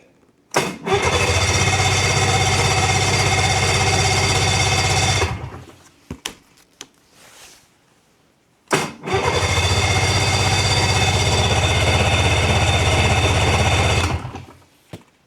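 Snowmobile engine started on full choke: it catches and runs loud and close for about five seconds, cuts out, then after a brief pause starts again and runs another five seconds before stopping.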